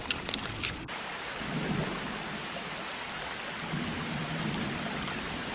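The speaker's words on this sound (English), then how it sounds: "The thunder is rolling, the wind's picked up, the rain's moved in" Steady rain hisses down during a summer storm by a trout stream, with low thunder rumbling and rolling in the background, alone without talk.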